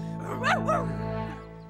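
Dog in a children's TV episode gives two short yips close together, fairly faint, followed by a whimpering tail.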